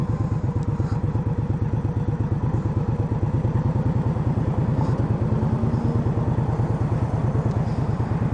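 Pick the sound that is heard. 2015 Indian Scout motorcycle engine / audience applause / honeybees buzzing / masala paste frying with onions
2015 Indian Scout motorcycle engine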